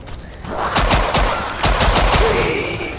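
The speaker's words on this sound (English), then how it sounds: "Now I shot you!" Rapid gunfire from the Killing Floor 2 shooter game, several sharp shots fired in quick bursts, loud and close, trailing into a fading echo.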